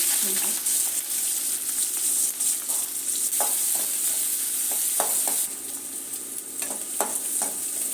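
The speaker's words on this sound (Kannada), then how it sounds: "ನಾನು ಇಲ್ಲಿ ಒಂದು ಬಾಣಲಿಗೆ ಎಣ್ಣೆ ಹಾಕಿಟ್ಟಿದ್ದೀನಿ ಸ್ವಲ್ಪ ಸೋಂಪು ಹಾಕ್ತಾಯಿದ್ದೀನಿ ಮತ್ತು ಕರ್ಬೇವಿನ ಸೊಪ್ಪು ಈರುಳ್ಳಿ ಹಾಕ್ತಾಯಿದ್ದೀನಿ" Sliced onion, fennel seeds and curry leaves fry in hot oil in a pan, a constant bright sizzle broken by repeated spoon scrapes and clinks, close and unaccompanied by talk.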